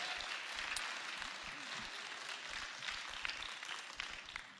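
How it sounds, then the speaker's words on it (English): Audience applause at a church gathering, a continuous spread of clapping hands from a room full of people, moderately loud and steady throughout. "Let's give these guys a round of applause"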